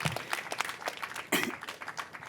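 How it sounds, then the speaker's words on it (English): Scattered applause breaks out at an outdoor Safer Streets press briefing, a short burst of individual claps from a small group, fairly close and uneven. "Round of applause for that."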